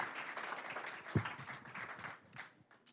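A short burst of faint audience applause at a Chino city council meeting, with scattered claps fading out as a voice speaks briefly.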